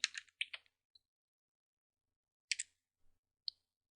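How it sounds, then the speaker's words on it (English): A command is typed on a computer keyboard at a Linux terminal, heard as a few quick clustered key clicks followed by pauses and isolated taps, close and clear with no talking. "let's switch to our documents directory by typing in cd space documents"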